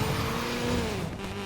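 Honda Civic in the Need for Speed Payback racing game accelerating with its front wheels spinning for grip, a steady, loud engine drone with rising harmonics and a faint tire squeal throughout.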